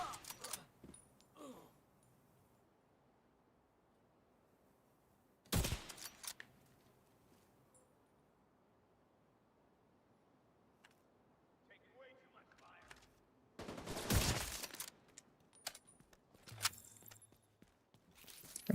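Video game gunfire comes in a few separate loud bursts between long quiet gaps, with faint clicks and movement sounds in between.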